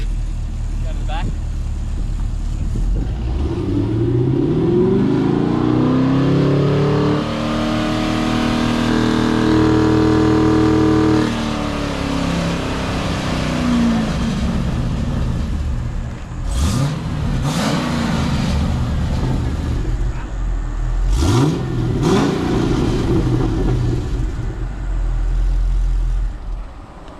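A Holden SS car with a full twin 3-inch exhaust roars close by, climbing through a long sustained rev and dropping back, followed by several sharp blips of the throttle, with people talking over it.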